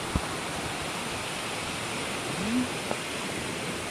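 Water rushes steadily from a large hole in a burst pipe, a broad continuous gushing hiss at moderate level, with a brief knock and a short rising squeak partway through.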